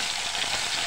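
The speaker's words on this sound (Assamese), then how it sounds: "তেলটো গৰম হৈ গ'ল, মই এতিয়া ইয়াতে মাছকেইটা ধুনীয়াকৈ ভাজি ল'ম।" Fish frying in hot oil, a dense, continuous crackling sizzle that stays loud and close for the whole moment, with no voices.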